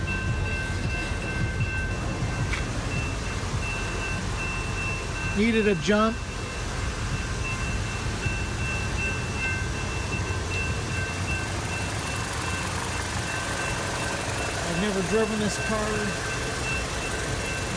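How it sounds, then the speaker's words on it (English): Low rumbling train noise runs steadily throughout, with a person speaking over it partway through. "we're stuck behind a train twice"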